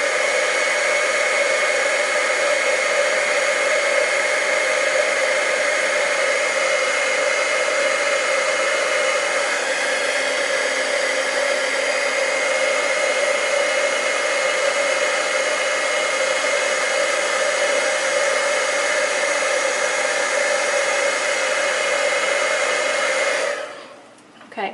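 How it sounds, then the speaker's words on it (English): A heat embossing gun blows hot air with a steady loud whooshing roar for a long stretch, then switches off and fades out at the end. "now I'm just going to heat emboss that"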